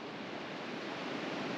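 Pacific Northwest ocean wave rushing up the beach, a steady broad wash of surf that holds level throughout with no one speaking.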